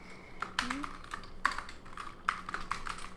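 Keys clatter on a computer keyboard in three short bursts of typing, close and moderately loud, with soft room noise in between.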